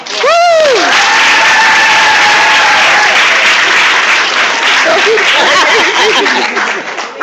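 An audience at a FirstService Residential rebranding event claps loudly and continuously for six honorees, with whoops and a little laughter in the crowd and a short cheer at the start.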